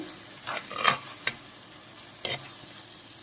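Onion paste frying in a clay pot for fish curry, a low steady sizzle with a few brief scraping stirs of a spoon, close and moderately quiet, no talking.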